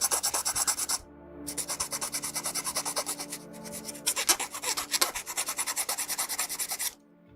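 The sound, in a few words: filing plastic model kit part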